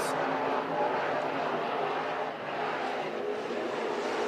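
Late model race cars roar down the front straightaway at Eagle Raceway in a dense, loud, continuous engine drone that swells slightly as they pass.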